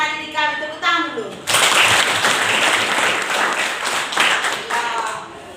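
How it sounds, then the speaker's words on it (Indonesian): Students in a classroom break into loud, steady applause after a brief spoken prompt, with clapping filling the room for several seconds. "Tepuk tangan dulu."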